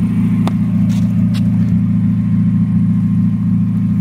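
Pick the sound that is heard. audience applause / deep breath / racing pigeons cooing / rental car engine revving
rental car engine revving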